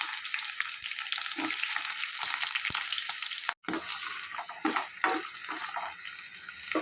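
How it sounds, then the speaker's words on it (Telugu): Onion pieces and green chillies frying in oil with cinnamon, cloves and cardamom for a village-style chicken curry, a continuous close hiss with a few stirring clatters and a brief silent gap midway. "ఉల్లిపాయ ముక్కలు బాగా ఏగాలి నూనెలో, లేదంటే పచ్చి వాసన వస్తుంది"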